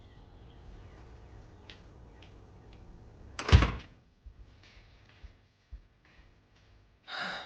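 A single sharp thud of a door being shut sounds in a quiet indoor room in a drama scene, preceded by faint breathing and followed by a few soft rustles and small knocks.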